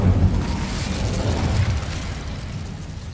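A fire spell blasting in Hogwarts Legacy, a dense roaring burst of flame rumbling loud and steady for a few seconds with no pause.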